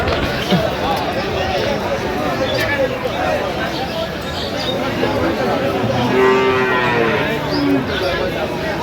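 Cattle, including improved-breed dairy cows and calves, low at a busy village cattle market in Aftabganj, Dinajpur, with a few moos over a steady din of crowd chatter and livestock noise.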